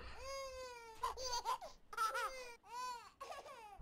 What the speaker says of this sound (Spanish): ¿Por qué sigues llorando?